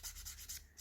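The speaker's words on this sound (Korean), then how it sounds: "울퉁불퉁한 곳만 정리해주는 느낌으로 이렇게 사포질을 해주시면 됩니다" Sandpaper rubbing along the rough edges of a small leather mini keyring, a quick series of soft, close scratchy strokes with no voices.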